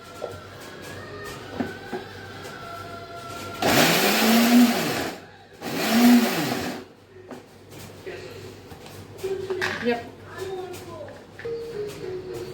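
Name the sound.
mixer grinder coarsely grinding corn kernels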